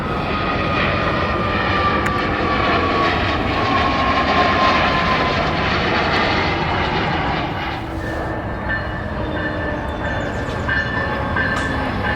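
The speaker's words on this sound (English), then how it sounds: "you also get a wide variety of pretty much continuous action of planes departing from Montreal International Airport" Airplanes departing Montreal International Airport at Dorval, Quebec, a continuous loud jet engine roar mixed with rail noise, steady broadband rumble throughout with a slight shift near the end, no talking.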